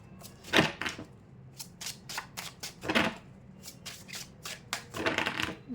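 A tarot deck is shuffled close up in a series of quick riffling bursts and soft card slaps, irregular and fairly quiet, with no talking.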